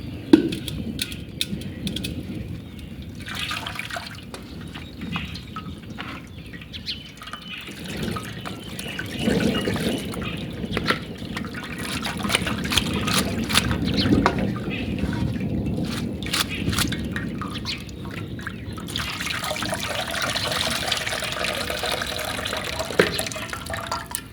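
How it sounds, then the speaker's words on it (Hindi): Cold water pours continuously over macaroni at close range, splashing and gurgling with shifting intensity throughout, with faint background clatter. "ऊपर से डालेंगे ठंडा पानी।"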